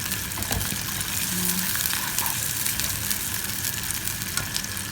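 Tomato, onion and egg sauté in a pan with a steady, close sizzle and light stirring throughout, no voices.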